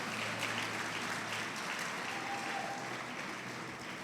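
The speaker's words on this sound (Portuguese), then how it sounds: "Aplauda o Senhor, em nome de Jesus" A church congregation applauds during an Easter service, a steady, dense wash of clapping from many hands that holds evenly for several seconds at moderate volume, with no voices standing out.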